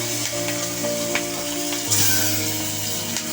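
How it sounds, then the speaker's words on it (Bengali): Giant freshwater prawns hit hot oil in a wok, giving a steady loud sizzle and crackle with faint stirring clicks, with no talking over it. "তো কড়াইয়ে পরিমাণ মতো তেল দিয়ে দিছি। এখন গলদা চিংড়ি মাছ দিয়ে দিব।"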